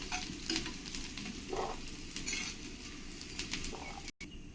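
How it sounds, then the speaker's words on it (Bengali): Mixed vegetables frying together in a pan make a continuous soft sizzle at moderate distance, with light stirring scrapes throughout and a brief cutoff near the end. "এবার আমি এই ভেজিটেবলগুলো একসঙ্গে ভেজে নেব"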